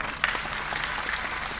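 An audience claps briefly during a talk at a Bholenath wedding event with women singing wedding songs, giving a dense, steady patter of many hands at moderate distance with a few sharper claps near the start.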